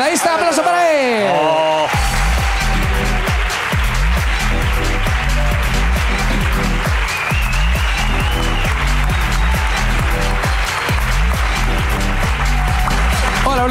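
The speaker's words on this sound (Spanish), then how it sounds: "¡Aplauso para él!" A studio audience bursts into sustained applause for a guest walking on stage, dense steady clapping after a brief opening, with some voices mixed in.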